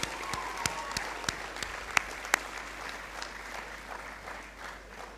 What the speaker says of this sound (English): I ask you to join with me in clapping all of what Manning'S represents